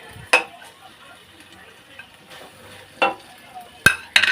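Carrots go into a pot of sardine soup, with a few distinct stirring knocks and scrapes of a utensil against the pot over a quiet, faint simmer, close by and without talk.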